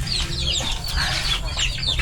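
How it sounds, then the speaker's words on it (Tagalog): A chicken clucks in short, repeated calls at close range, against a steady background din during a rural lunch at a hut, with no clear speech. "Masungit yung manok na yun ay."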